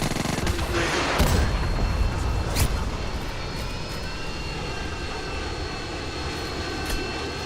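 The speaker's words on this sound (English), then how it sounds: "Predator missile inbound." A Predator missile streaks in during a Modern Warfare 3 Remastered online match, a loud rushing roar that swells early and then fades into a steady engine drone, with scattered distant gunfire.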